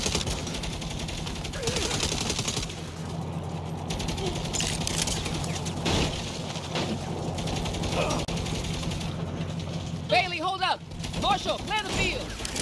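Gunfire in the video game Saints Row (2022), scattered shots and mechanical clatter over a constant background rumble, with a sharp cluster of bursts near the end and voices at times.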